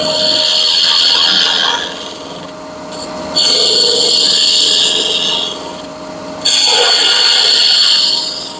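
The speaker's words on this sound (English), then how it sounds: "I'm going to use my little skew on this, and we're going to make her round" A small skew chisel cuts into a spinning wood blank on a lathe, making a loud, bright hissing shear in bursts, easing off between passes while the motor hums steadily underneath.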